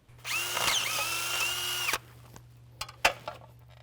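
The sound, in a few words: power drill drilling holes in a 12v Cummins engine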